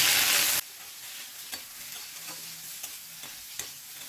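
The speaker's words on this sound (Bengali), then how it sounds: "দেব চারটে চেরা কাঁচা লঙ্কা লো ফ্লেমে এক মিনিট কষিয়ে নেবো" Ground spice paste with four slit green chilies sautés on low flame for a thin singi fish curry, opening with a loud burst of sizzle that drops to a softer steady fry marked by light stirring taps.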